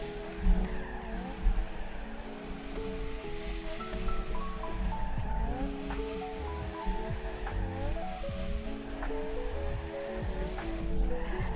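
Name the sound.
car drifting with tire squeal in Torque Drift 2 video game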